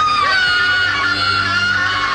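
A woman screams at full voice in a photo studio during a model-competition shoot, a loud, sustained, strained cry that holds steady for the whole stretch without a break.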